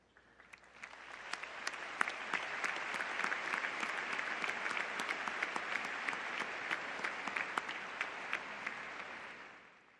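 Commencement audience applauding honor society graduates, a steady wash of many hands clapping that swells in and holds evenly for about ten seconds before easing off, with sharp individual claps standing out.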